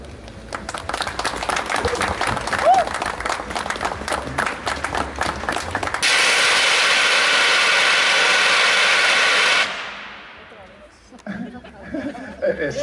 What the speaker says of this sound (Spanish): quiero pedirles un aplauso chingón, si es eso posible